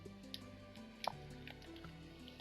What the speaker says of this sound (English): What we're going to do is place water inside all these pistons